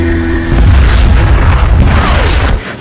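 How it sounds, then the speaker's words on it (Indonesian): Artillery shells fired on North Vietnamese troops in a war film sound effect: one deep, loud boom that swells and rolls on for about two seconds before cutting off. "Artileri pun segera ditembakkan dan mengenai sebagian kecil pasukan Vietnam Utara itu."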